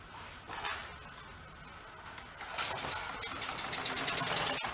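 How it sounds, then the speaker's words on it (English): A VéloSolex moped engine, 46 years old, is coaxed into running with the choke on: a rough, sputtering engine note rises after a quiet start and settles into a steady, fairly close putter with a rapid pulsing rhythm. "see if you at least fire it up the way it's supposed to run"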